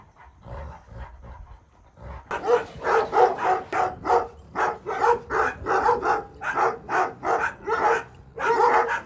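Two Kangal dogs snarling and barking in rapid, repeated bursts, a close, aggressive scuffle for dominance over a female after a quieter start.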